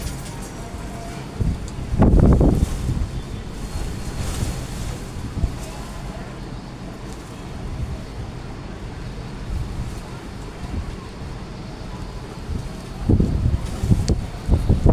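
Strong wind roaring high through the treetops in Vietnam, a steady broadband rush with louder gusts swelling early on and again near the end, some of it buffeting the microphone.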